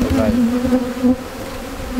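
Honey bees buzzing loudly around hives at an apiary, a dense, steady close-up hum with slight wavering and no voices.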